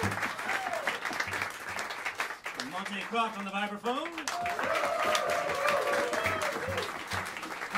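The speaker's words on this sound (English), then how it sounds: "let's give a big round of applause for Ed Cherry" An audience at Smalls Jazz Club applauds guitarist Ed Cherry and his quartet, sustained clapping and a few cheers running throughout while someone talks over it.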